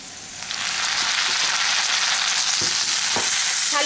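Loud, steady sizzling of ginger-garlic paste frying with onions in hot oil, with a few soft stirring knocks toward the end.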